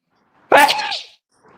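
A single sharp sneeze bursts out close to the microphone during a gaming stream, a loud abrupt onset trailing off over about half a second, with near silence around it.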